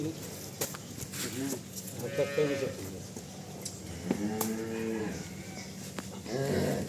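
Several drawn-out cow moos, close by, repeating every couple of seconds over farmyard background noise and some nearby human voices.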